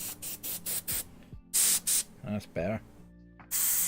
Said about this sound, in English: I just pulled the trigger and it sprayed black back at me